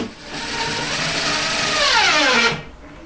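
A power driver sinks a 2.5-inch screw through thick shims into a drywall wall, a loud, close whirring whine that rises in pitch for about two and a half seconds and then cuts off abruptly.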